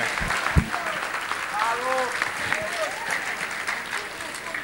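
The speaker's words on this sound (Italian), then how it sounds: "approfitto che state tutti quanti voi per fare un grande applauso a Ciccio Albanese" Large audience at a university engineering faculty event bursts into sustained applause, with scattered voices and a few whoops mixed into the steady clapping.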